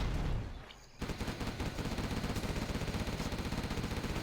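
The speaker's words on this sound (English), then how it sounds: "Artillery strike going for the arms dealer" Artillery strike in Command & Conquer: Zero Hour, a sudden onset of rapid, repeated explosive thuds and gunfire-like bursts that continues steadily after a brief quieter lead-in, loud and without talk.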